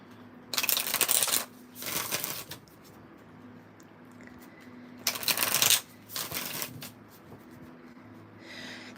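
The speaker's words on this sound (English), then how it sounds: "Let me shuffle this up a little bit." Tarot cards riffle-shuffled in two quick bursts, a pause, then two more crisp riffles, close and fairly quiet over a faint steady hum.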